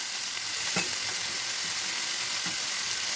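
Mutton masala with tomato and salt fries in a pan in a continuous bright sizzle, with a few soft stirring scrapes breaking through.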